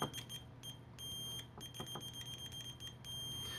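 A Handskit 830LN budget multimeter in continuity mode gives steady, loud electronic beeps through the probes, sounding in a few bursts with short gaps over a low background hum.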